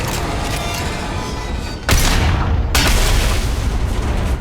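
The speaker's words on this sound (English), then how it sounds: "I think we have to shoot that." Gunfire striking an object in the Mass Effect 2 video game, setting off a loud booming blast partway through, followed by a second burst over a dense rumbling game soundtrack.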